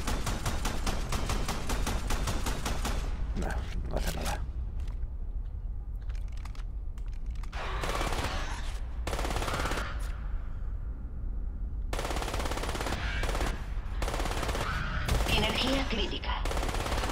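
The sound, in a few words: gunfire from an enemy shooting in the video game Crysis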